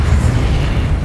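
A Confringo spell blast in Hogwarts Legacy, a loud, booming burst that rumbles steadily for about a second, close and unaccompanied by voices.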